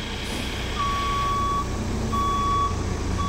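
A Class B commercial vehicle backs up slowly in a CDL skills training lot, its reversing alarm sounding two long steady beeps over a constant engine rumble close by.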